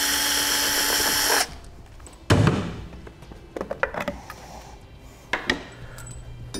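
A power drill whirs loudly at close range for over a second, driving out the fasteners on a trailer breakaway kit's junction box cover. Knocks, clicks and handling thuds follow as the cover is worked free.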